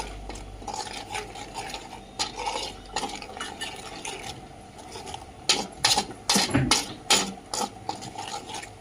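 Mutton pieces mixed with salt and chili powder in a pot, heard as scraping, clattering stirring strokes against metal, sparse at first and then rapid and loud near the end.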